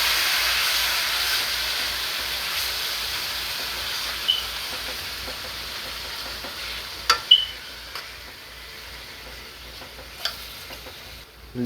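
Beef browning with garlic in a pot for a curry brown stew gives off a soft, steady hiss of frying, fairly quiet, with a few sharp clinks of stirring breaking through and no voices.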